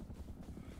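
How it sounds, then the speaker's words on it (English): Helicopter in the Rust video game, a close, low rhythmic rotor thump that pulses steadily through the brief moment, with no talk. "Oh, it's one of those helicopters."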